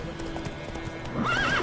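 Roach, the horse in the video game The Witcher 3, gallops with quick rhythmic hoof clip-clops, then gives a loud whinny at the end. Nobody speaks over it.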